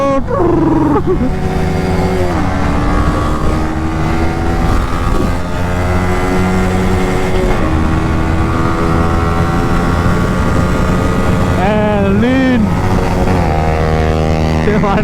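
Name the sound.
Yamaha R15 V3 motorcycle engine while riding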